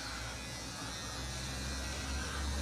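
Razor shaving under the chin: a steady, close, low buzzing hum with faint scratchy texture runs throughout without a break.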